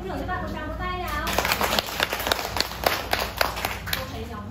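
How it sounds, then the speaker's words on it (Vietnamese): Students in a Vietnamese primary school classroom clap together in a brisk, uneven round of applause, with children's voices and chatter mixed in throughout. "Xin thưởng cho bạn một tràng vỗ tay nào."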